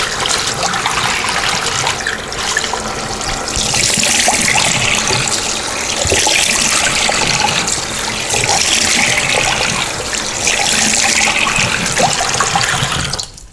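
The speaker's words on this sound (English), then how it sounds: "go ahead and just rinse your face with warm water" Warm tap water pours steadily from a faucet into a sink while a face is rinsed, a loud continuous close-up rush with slight splashing surges throughout and no talking.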